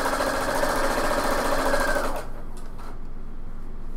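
A sewing machine stitching the inseam of a pair of pants runs in a steady, fast whir for about two seconds, then stops, leaving a quiet room.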